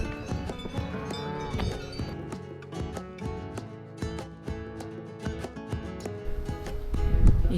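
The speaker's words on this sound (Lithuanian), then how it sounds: "Karvutės." Cattle lowing on an Alpine mountain trail, several drawn-out moos overlapping close by with faint clanks that may be cowbells in between, and no voices.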